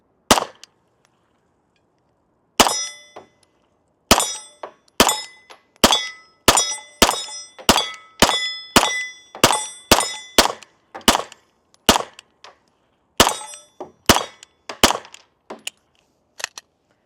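Shots from a non-ported Canik pistol at about 15 yards each ring a steel target with a bright clang, fired singly and in quick strings of about twenty shots, with short pauses between groups.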